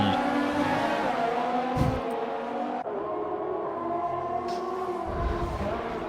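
F1 race cars in a video game roar steadily with high-pitched engine whine, shifting pitch as they brake and accelerate, several cars close together in a continuous loud drone.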